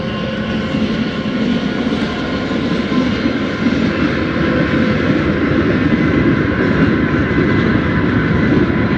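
A train rolls past close by, a loud, steady broadband rumble and rail roar filling the whole stretch without a break, no voices over it.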